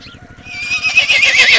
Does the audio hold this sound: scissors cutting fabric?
no